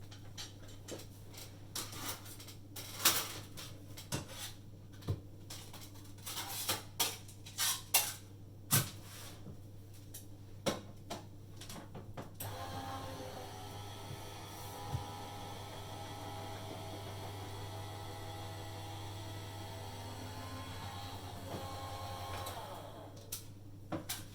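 A crafting cutting machine works through organic linen, starting with irregular clicks and ticks over a steady mains hum, then switching to a smooth continuous motor whir, all fairly quiet with no talking.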